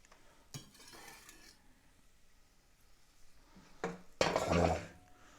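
Chopped onion and rough-cut garlic cook in olive oil in a pan: a faint, steady sizzle with a couple of louder clattering, stirring bursts, the last and loudest near the end.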